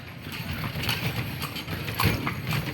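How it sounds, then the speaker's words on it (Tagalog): Hooves of a horse being ridden clop faintly and irregularly against a steady outdoor background hiss, quiet and somewhat distant. "ang sarap pala sumakay ng kabayo"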